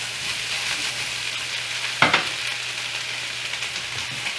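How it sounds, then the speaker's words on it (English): Green beans sautéing with bacon bits in a pan give a steady, close sizzle, with one sharp scrape or stir near the middle; no voices. "I really like it when they get sauteed on the bottom like this"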